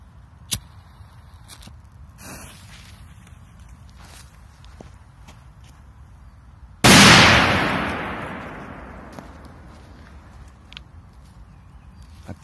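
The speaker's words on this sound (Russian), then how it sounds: "следующая петарда будет мощная." A single sharp, loud blast from a Thunder King firecracker that booms and slowly fades out, with a few faint clicks and quiet background before it.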